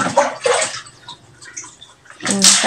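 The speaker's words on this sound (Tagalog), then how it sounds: "Punuin mo yung planggana ng tubig." Water pours into a plastic basin during dishwashing at home, a loud splashing rush at the start, a quieter trickle in the middle, then another strong gush near the end.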